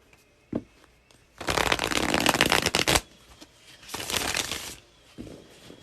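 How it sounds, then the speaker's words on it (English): Tarot cards are shuffled up close: a long loud riffling burst, a pause, then a second shorter burst and a brief final shuffle. "I'm supposed to shuffle this number of times"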